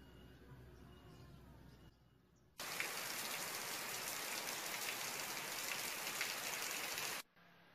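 Rain falls steadily, a dense even hiss of drops hitting surfaces that starts abruptly and holds for several seconds before stopping, with quieter ambience before and after.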